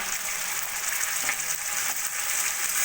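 Diced potatoes frying with ginger-garlic paste, turmeric and chili powder for a tangra fish curry, giving a steady, close, bright sizzle with faint scraping stirs throughout and no voices.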